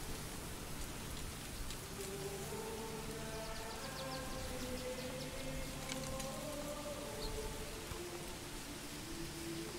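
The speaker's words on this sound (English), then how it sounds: "And now it's raining." Rain in the medieval city-building game Manor Lords, a soft, steady patter of drops heard faintly throughout with a quiet tonal hum beneath, no talking.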